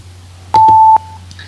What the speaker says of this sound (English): let's go ahead and start that timer